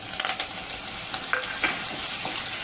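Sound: coriander being stir-fried in oil

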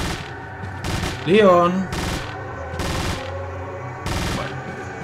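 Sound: gunfire from a video game

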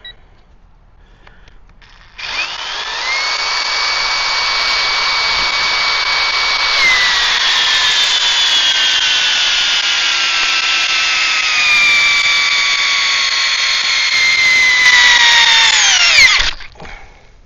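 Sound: Metabo HPT DV36DC cordless drill peak torque test, speed 1

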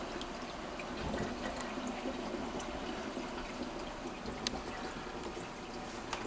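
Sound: water circulating in reef tank from wave pumps

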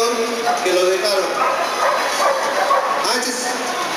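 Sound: female protection dog barking during attack training

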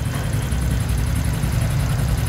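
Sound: Honda Wave Thai 110 motorcycle engine running

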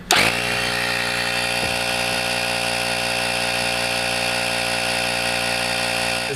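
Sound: portable air compressor running

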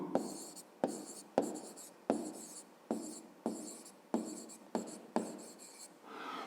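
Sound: writing a math problem by hand

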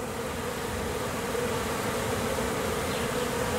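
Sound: honey bees buzzing around a hive after swarming

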